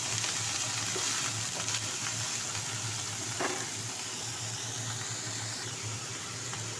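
Broccoli frying in a pan with a little salt, giving a steady, even sizzle throughout with a low background hum and occasional faint clinks.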